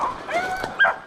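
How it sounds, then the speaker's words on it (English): A dog gives brief high whimpers and yips while having a seizure during a rainy rabbit hunt, with a short cluster of thin whines heard close up. "Hey, a dog's having a seizure."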